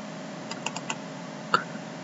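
Computer mouse clicks in design software while working on regions and building pads, heard as a few sharp, close clicks in a quick cluster followed by one louder click, set against quiet room hum with no talking.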